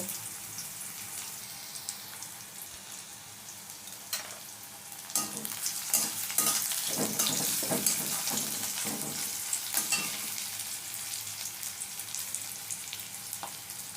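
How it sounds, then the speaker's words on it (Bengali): Onions fry in a pan until browned for a taro stolon and fish curry, with a soft steady sizzle that grows busier as stirring scrapes and clatters join partway through, and no talk. "ভালো করে লাল করে পেঁয়াজটা ভেজে নেব"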